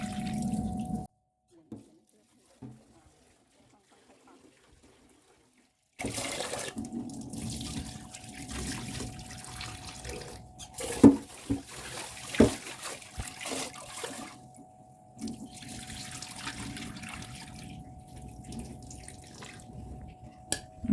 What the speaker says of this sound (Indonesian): Cuci beras dan bilas sampai bersih.